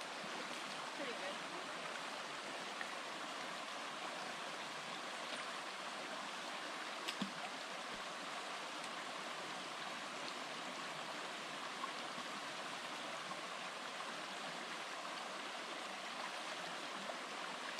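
A forest river flows along a backpacking trail, a steady broadband rush of water at moderate distance with no break, with faint occasional knocks.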